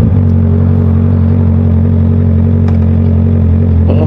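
A 2023 Honda CBR650R sits idling with a steady low engine drone and faint mechanical clatter, loud and close throughout, with a couple of brief clicks near the end and no talk.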